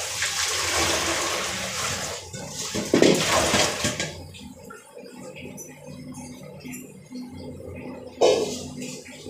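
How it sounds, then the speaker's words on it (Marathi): Water from an overfull pot that sat under a clay water pot gets tipped out, a loud close gush and splash that fades into softer trickling, then a second short splash near the end. "ते खूप भरलेलं आहे म्हणून आता ते पाणी फेकून देते मी"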